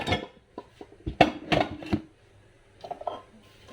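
A cooking pot is pulled out from among dishes in a home kitchen, about to be used for pancit canton, making a close run of clanks, knocks and metallic clatter with a few sharp hits and then quieter rattling.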